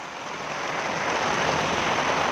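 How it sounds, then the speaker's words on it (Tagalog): Heavy rain pours steadily in Baguio City, a dense even hiss that stays loud and unbroken throughout, with no voices. "Lakas ng ulan."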